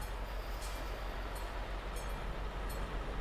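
A train rolling past in Euro Truck Simulator 2, a steady, loud low rumble with faint rhythmic clicks of the wheels over the rail joints, heard alone and unbroken.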